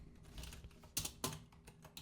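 Keys clack on a computer keyboard during Unity game coding, a quick run of close, crisp taps with a few sharper, louder strokes and no voices.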